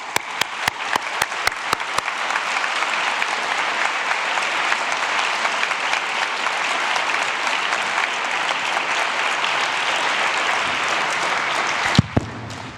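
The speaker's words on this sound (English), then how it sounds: "let's give a last big round of applause to all the winners" Sustained audience applause for award winners at a closing ceremony, a few sharp claps at first swelling into loud, dense, continuous clapping from a large crowd that holds steady for over ten seconds.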